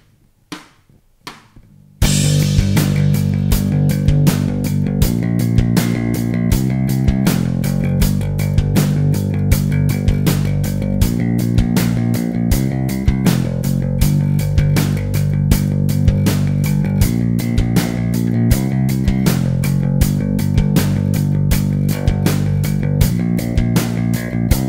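A bass riff backing track plays loud and steady after a few quiet opening taps, with a driving repeated bass line and a regular drum beat running for about twenty seconds.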